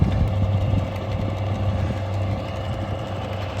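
A tractor engine idles steadily with a low, constant rumble and light rattling vibration, close and continuous throughout with no talking.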